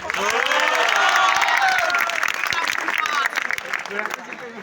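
Audience at a college annual function clapping and cheering loudly throughout, a dense crowd roar that stays strong before easing slightly near the end.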